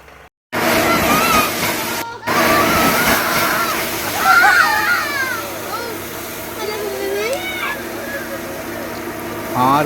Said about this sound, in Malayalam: 180 അടി ആയപ്പോഴേക്കും നമുക്ക് ധാരാളം ശുദ്ധമായ വെള്ളം കിട്ടിയിട്ടുണ്ട്.